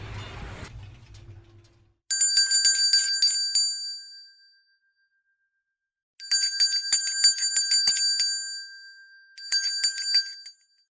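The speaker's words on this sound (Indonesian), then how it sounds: "Itulah bunyi loceng." Bright metallic bell rings sound in three bursts of rapid repeated dings, separated by short silences, clear and close.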